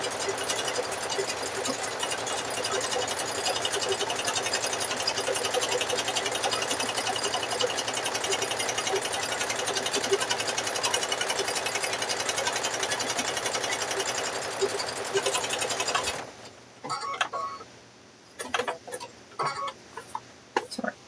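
Sewing machine stitching fabric-wrapped rope into a coiled rope bowl, a loud steady mechanical whir running continuously for about sixteen seconds before stopping, followed by sparse faint handling clicks.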